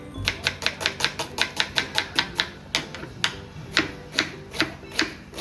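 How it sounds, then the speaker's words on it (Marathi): An onion being finely chopped with a knife on a board for frying in chicken biryani, a fast, even run of crisp, close knocks, about three per second, slowing slightly near the end. "फ्राय करण्यासाठी कांदा कापतो मस्त"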